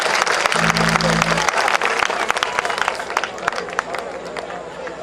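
An audience at a thanksgiving service in Santo Domingo applauds, a dense, continuous patter of clapping that holds steady throughout, with a voice briefly heard over it.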